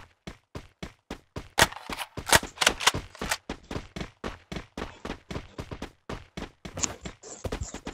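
Rapid bursts of Free Fire gunfire crack in a steady rhythm, with automatic volleys and single shots, loud and close, without any talking.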